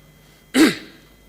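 A single short, sharp cough or throat-clear in a Senate chamber, close and loud, then quiet.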